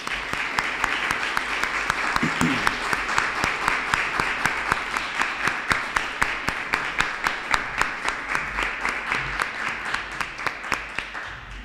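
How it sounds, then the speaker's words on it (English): Sustained audience applause at an honor society induction ceremony, a broad wash of clapping that gradually settles into slower, rhythmic unison claps toward the end. "With a round of applause, congratulations."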